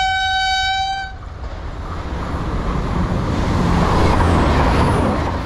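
A loud train whistle blasts for about a second at a whistle post in Victoria, then gives way to the heavy, continuous rumble of a train rolling past.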